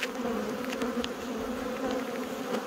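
Honey bees at an open hive on Dartmoor produce a dense, steady buzzing drone close by, with individual insects flitting past.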